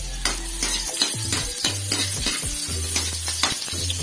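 Onion and garlic sautéing in a pot for spicy squid adobo make a soft sizzle under repeated stirring clinks and scrapes from a utensil, while low tones hum in the background and no one speaks.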